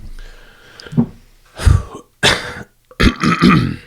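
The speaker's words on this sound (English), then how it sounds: "Sorry, got to clear my throat." A few harsh, guttural throat-clearing bursts in quick succession, close and loud, with short pauses between them.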